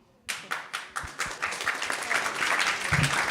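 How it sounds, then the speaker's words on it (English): An audience claps for a volunteer at a youth event, starting with a few separate sharp claps that quickly swell into dense, sustained applause from a room full of people. "She got an applause just for just playing."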